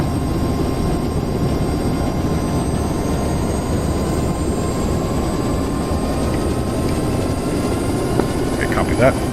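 Helicopter engine in the DCS World flight simulator throttling up for lift-off, a steady loud rotor and turbine drone that holds constant throughout, with a few faint clicks near the end.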